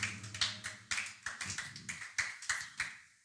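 A church congregation claps in a brisk rhythm to acclaim the Lord, a dozen or so sharp hand strikes ringing out close and loud, with a faint hum lingering underneath.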